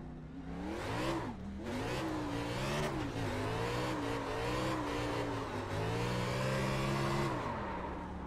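A car drifting in the iRacing sim: a loud, continuous engine roar that swells and dips as the revs rise and fall, with faint tire squeal mixed in and no talking.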